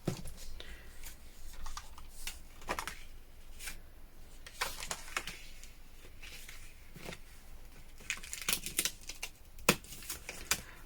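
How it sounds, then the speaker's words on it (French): Paper Christmas card pieces cut from a luxury paper block, with soft clipped snips and paper rustles in irregular bursts, close and quiet with no talking. "Je vais découper les deux puis on va voir lequel on utilise."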